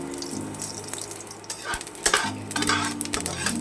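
Panch phoron spices sizzle in hot oil for a sweet-sour mango achaar, a close, steady crackle broken by sharp metallic scrapes and clinks of a spoon stirring the pan.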